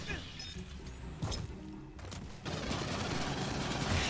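Bursts of gunfire in the sci-fi shooter Aliens Fireteam Elite crackle in rapid volleys, growing denser and more continuous in the second half, with a player talking over the action.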